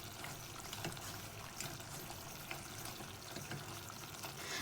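Onion and garlic softening in a pan with a steady, low crackling sizzle, fairly quiet and continuous, with occasional faint stirring scrapes and no talk.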